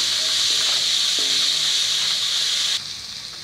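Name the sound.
onion and curry leaves frying in oil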